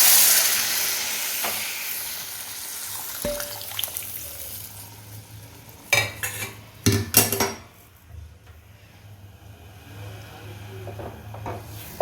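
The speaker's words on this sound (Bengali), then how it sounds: "এবার এই গরম জলটা অ্যাড করে দেব।" Hot water poured into egg curry masala in a hot pan: a hiss and sizzle at the start that fades into a low bubbling simmer, with a few clinks of a utensil against the pan.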